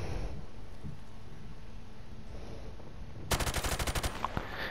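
Rapid automatic gunfire erupts partway through a match of Modern Warfare Remastered: a fast, loud, evenly spaced stream of shots following quieter game ambience.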